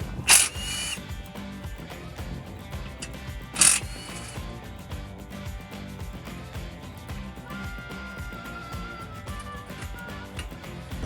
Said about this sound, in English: The next thing we're going to take off is this guard here, just 2 16mm bolts.